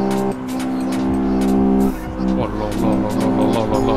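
A race car in Assetto Corsa played in VR roars past with a rising engine whine and a rapid pitch shift, followed by a sustained engine drone and some tire noise.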